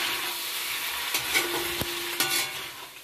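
Local chicken meat fries in a pan at home, with a steady close sizzle and occasional scraping stirs of a utensil over a few seconds.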